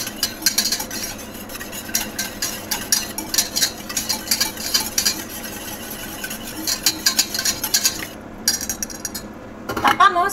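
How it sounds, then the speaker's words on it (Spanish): A spoon clinks and scrapes against a pot while stirring a sweetened coconut milk panna cotta mixture, quick repeated metallic taps and swirls in bursts, close and clear with no talking. "Revolvemos."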